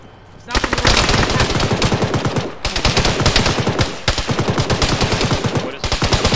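An armored BTR vehicle's machine gun fires in long, rapid bursts in a combat video game, loud and close, with brief pauses between volleys.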